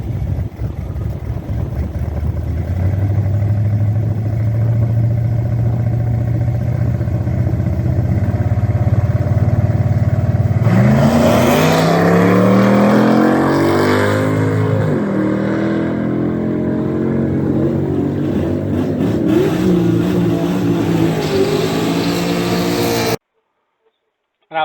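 A 1980 Pontiac Trans Am races a nitrous-fed Jeep Trackhawk at a track day: a steady loud engine drone builds, then rising revs and gear changes sweep past with voices talking over it, ending in a sudden cut to silence.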